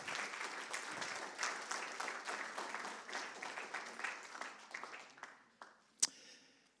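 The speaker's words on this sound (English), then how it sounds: "There we go, give them a clap." An audience at a pitch event claps for the presenters leaving the stage, a fairly quiet, even applause that thins out and fades, ending with a few isolated claps and one sharp louder clap.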